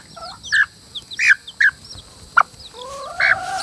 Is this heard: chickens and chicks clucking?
yes